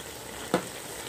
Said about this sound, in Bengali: বাঁধাকপি দিয়ে আমি ভালো করে মাংস আর মশলার সাথে মিশিয়ে দিচ্ছি।